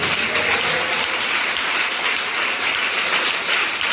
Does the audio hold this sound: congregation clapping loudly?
yes